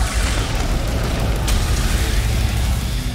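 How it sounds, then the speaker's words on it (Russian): A heavy, booming explosion set off during a jump in the action game Devil May Cry 5, a loud continuous low rumble filling the whole stretch with a brief sharper burst near the middle, no voices over it. "Взрыв, конечно, в прыжке."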